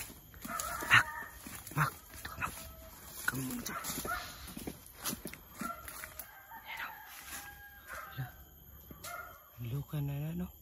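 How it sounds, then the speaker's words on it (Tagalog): A dog barks intermittently near a house, short yips and barks scattered among people talking and moving about, mostly moderate in loudness with a few sharper bursts. "Tandaan naman kasi mayroong aso."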